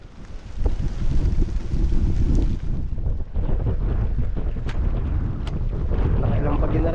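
Strong wind buffets the microphone outdoors during a red banana harvest, a steady loud rumble with gusts, and a few voices are faintly heard beneath it.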